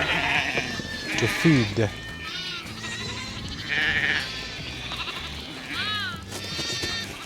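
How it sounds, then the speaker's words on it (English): Sheep and goats bleat repeatedly on a farm as the flock comes in, several overlapping calls near and farther off, under someone talking throughout. "So many sheep, so many goats"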